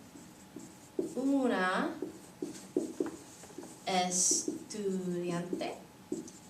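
A pen scratches out words by hand on paper in short strokes, faint under a voice speaking slowly nearby.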